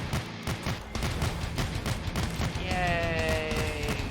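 A weapon in the comic-book boomer shooter Forgive Me Father fires in a steady rapid stream of shots, with a tonal electronic whine rising in near the end.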